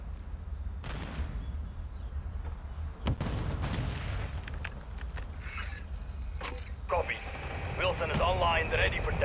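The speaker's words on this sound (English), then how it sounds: "set a charge on the target and detonate it" A bomb charge detonating in the Modern Warfare 2 video game during a Search and Destroy match: a few booming blasts and sharp bangs over a low rumble, with game effects and distant gunfire around them.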